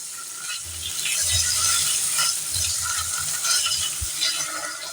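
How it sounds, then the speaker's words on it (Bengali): Paneer pieces seasoned with salt and turmeric frying lightly in a pan, a soft steady sizzle with scraping and clinking from stirring, close and continuous, no voices. "পনিরগুলোকে ভাজার জন্য একটু লবণ আর একটু হলুদ দিয়ে দিয়েছি খুব খুব হালকাভাবে ভাজবো পনিরগুলোকে"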